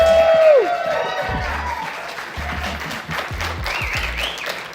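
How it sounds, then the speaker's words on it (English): Cinema audience applauding at a movie screening, with a cheer over the start and steady clapping from the crowd continuing under scattered voices. "Can we give him a round of applause?"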